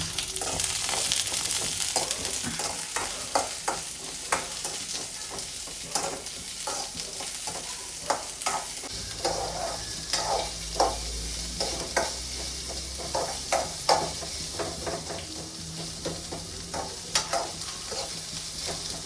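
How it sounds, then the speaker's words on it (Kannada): Steady sizzling of onions frying in hot oil in a pan, with scraping stirring strokes at an uneven rhythm and no talking. "ಒಂದು ಬಾಣಲೆಯಲ್ಲಿ ಎಣ್ಣೆ ಬಿಸಿ ಮಾಡೋಕ್ಕಿಟ್ಟು ಈರುಳ್ಳಿನ ಚೆನ್ನಾಗಿ ಫ್ರೈ ಮಾಡ್ಕೊಳ್ಳಿ"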